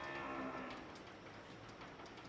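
A cow at a dairy farm selling sacrificial cattle lets out a single loud, drawn-out moo that fades over a couple of seconds.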